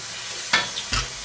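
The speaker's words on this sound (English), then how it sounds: "I'm just going to add a dash of wine, so there's a bit of lubrication" A dash of wine poured into a hot pan of mince, giving two short sharp sizzling bursts over a quiet background.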